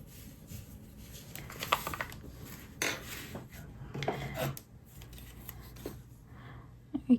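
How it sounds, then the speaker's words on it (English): Scissors cutting crochet yarn: several soft metallic snips and rubbing sounds close by, in an irregular pattern, with a couple of sharper clicks at the end. "We can cut the yarn"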